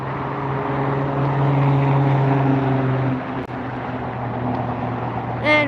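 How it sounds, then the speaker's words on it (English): An Emirates airliner taxis at LAX airport, its engines a steady droning hum with a low tonal whine, heard from a distance over a constant background wash, with no one speaking. "Here comes the Emirates taxiing up."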